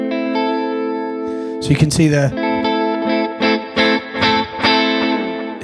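Tele-style electric guitar on the neck pickup, run through an HX Stomp with delay and reverb, rings out in bright sustained chords and then a run of rhythmic strums that echo and trail off, with a brief spoken remark partway through.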